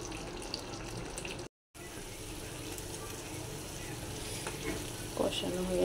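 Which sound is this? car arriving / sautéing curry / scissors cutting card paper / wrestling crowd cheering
sautéing curry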